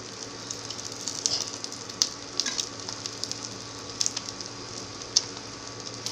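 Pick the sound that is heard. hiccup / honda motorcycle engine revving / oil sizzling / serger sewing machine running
oil sizzling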